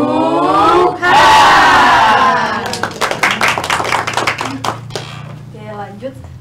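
A class doing a clapping and shouting spirit cheer in a microteaching session: a loud chanted shout, then a quick run of sharp group claps with voices over them.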